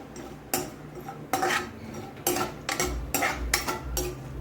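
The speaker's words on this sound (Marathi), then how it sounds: "आता आपण त्यामध्ये थोडंसं खोबरं भाजून घेणार आहोत तेलामध्ये" Metal utensil scraping and clinking against a pan as coconut is roasted in hot oil on a gas stove, a series of sharp stirring strikes over a steady low frying hiss, close and moderately loud.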